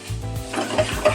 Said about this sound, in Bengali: একটু কষিয়ে নেব।